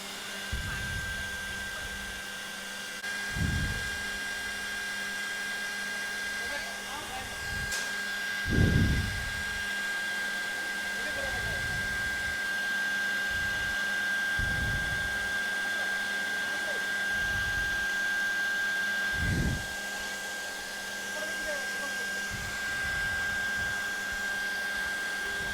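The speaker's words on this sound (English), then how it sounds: "dry fluidization is taking place by the hot air." A laboratory fluidized bed dryer blowing hot air through a bed of particles gives a steady, loud broadband rush with a constant whine, broken by several soft low thumps over its length.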